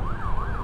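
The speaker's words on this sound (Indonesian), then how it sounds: "Kali ini kita mendampingi satu unit ambulan" An ambulance siren wails in a smooth rising and falling sweep. It is heard close and steady over low road and engine rumble from a motorcycle escorting the ambulance, with no talk.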